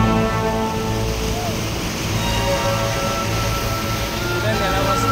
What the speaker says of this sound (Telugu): చూడండి ఎలా వస్తుంది వాటర్ ఫాల్.